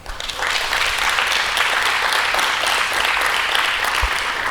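A church congregation applauds God during a Spanish-language sermon, a dense, steady roar of clapping that swells quickly and holds evenly throughout.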